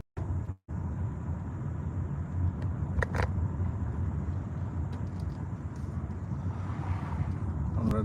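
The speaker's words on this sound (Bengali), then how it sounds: "আমরা ড্রাইভ করতেছি।" Car driving through a residential Vancouver neighbourhood, heard from inside as a steady low road and engine rumble with faint wind noise, a brief dropout near the start and a few light clicks, no talking.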